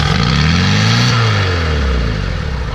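A 4WD engine with a boosted intake idles up loudly on its own with no throttle applied, a close, strong drone whose pitch rises and falls over a few seconds, no talking.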